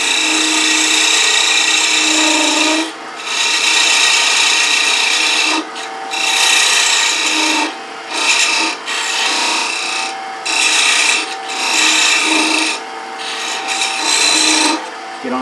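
Parting tool cutting into a spinning wooden goblet on a lathe, a loud rasping scrape in repeated bursts separated by brief pauses, close and with no talk.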